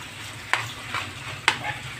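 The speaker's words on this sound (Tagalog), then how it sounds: "haluin lang natin siya" Chicken cubes are stirred in a cooking pan, with two sharp utensil scrapes against the pan a second apart over a soft continuous sizzle of frying.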